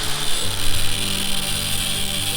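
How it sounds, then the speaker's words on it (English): A steady, high-pitched grinding whine runs continuously with a broad hiss, loud and close, as an angle grinder cuts into the top of a steel railroad spike. "Then we're going to take our angle grinder."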